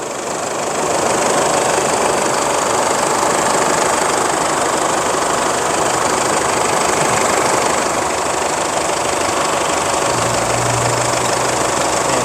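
A van engine idles steadily and loudly up close, a constant rumbling drone with a low hum rising near the end.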